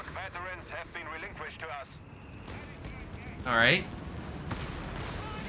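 Pak 40 anti-tank gun fire during a Company of Heroes 3 battle on Mignano Summit: a short, loud burst of firing stands out amid scattered battle noise, with people talking over it before and after.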